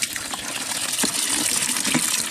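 Hose water gushes steadily into a pool in a video game, a constant rushing splash throughout with a few faint clicks and no speech.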